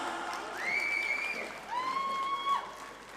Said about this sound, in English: Let's show them how proud we are with a huge round of applause.